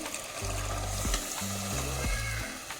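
Boiled peas go into frying masala in a pan, followed by a low steady sizzle and occasional stirring scrapes, with faint tonal hums underneath and no talking.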